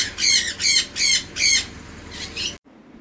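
A pineapple conure parrot gives four loud, evenly spaced harsh squawks close by, followed by two quicker, softer calls before the sound cuts off.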